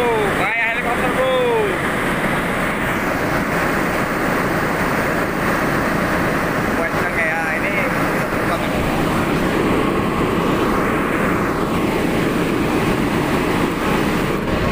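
A cooling tower fan runs during a test, giving a continuous loud whooshing, rumbling roar likened to a helicopter, steady across the whole stretch with faint whistling sweeps near the start and middle.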